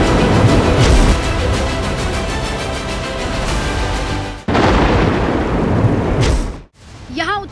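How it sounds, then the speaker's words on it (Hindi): Heavy thunder rolls and cracks during a cloudburst storm near the Yamunotri highway in Uttarkashi, loud rumbling mixed with pouring rain, ending in a sharp break and a brief lull. "बादल फटने की आवाजें और तेज कड़कती बिजली बता रही है कि फिलहाल कुदरत का ये आक्रोश थमने वाला नहीं।"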